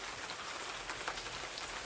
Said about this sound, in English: the sky grew black and the rain came lashing down